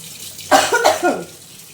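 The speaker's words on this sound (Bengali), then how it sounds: "কাশি কাশি হয়েছে" A single close, loud cough burst made of two or three quick harsh hacks, heard alone in a quiet room.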